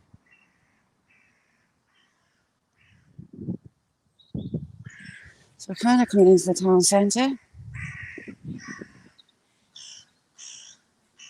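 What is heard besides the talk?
carrion crows cawing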